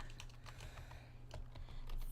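Quick, soft clatter of fingers typing on a computer keyboard, a rapid run of light key clicks heard quietly and close, with no voices.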